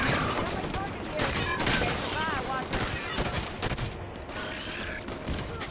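Enemy gunfire in the Halo 5 video game, with rapid bursts and overlapping automatic fire continuing throughout. Game voices call out over the shooting.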